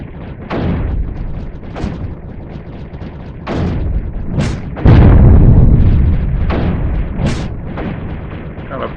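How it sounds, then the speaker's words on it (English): Cannon fire in the strategy game Creeper World 3, a series of deep booming blasts spaced a second or two apart, with heavy rumbling impacts and sustained explosive roar through the middle. "that cannon's going to do a great job of clearing this out for us"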